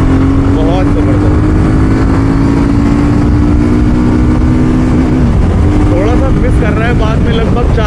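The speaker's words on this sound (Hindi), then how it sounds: "अब ये मैं दोबारा पिकअप करता हूँ एक बार," BSA Gold Star 650 single-cylinder motorcycle pulling away hard from low speed, a loud close engine note climbing steadily, dipping at a gear change around five seconds, then rising again with wind rush.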